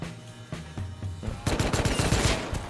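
Gunfire in the video game Rust: a few spaced single shots give way to a rapid, loud burst of automatic fire, close and dense with no talk over it.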